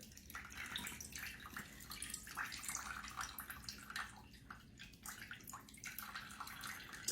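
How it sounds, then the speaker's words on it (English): Liquid draining from a can of salmon, a steady close trickle and splash with small drips running continuously for several seconds, no talking. "the first thing I'm going to do is drain my salmon"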